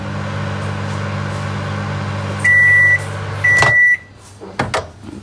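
A microwave oven hums steadily while heating paper mache paste, then gives two loud electronic beeps as it finishes, followed by the door clicking open and a few clattering knocks.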